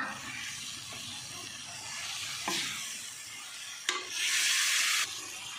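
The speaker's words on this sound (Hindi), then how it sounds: "और अच्छे से मिक्स करो।" Squid being stirred in a hot pan with ginger garlic paste, soy sauce and red chilli sauce, a steady sizzle and hiss with scraping stirs and bursts of louder frying, close and clear with no talking.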